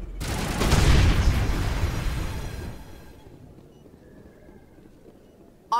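A grenade blast in the Mass Effect video game, a heavy boom with a broad roaring rush that swells for about two seconds and then trails off into a long, fading rumble.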